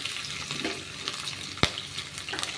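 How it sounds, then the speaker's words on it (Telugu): Tempering seeds and green chillies fry in hot oil in a home kitchen, giving a steady crackling sizzle with stirring and one sharp clack near the end, no talking. "ముందుగా స్టవ్ వెలిగించి ఆయిల్ వేడెక్కిన తర్వాత తాలింపు గింజలు వేయాలండి"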